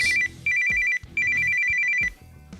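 A phone ringtone sounds during a call as a repeated electronic trill in three bursts separated by short gaps, clear and fairly close with no talking.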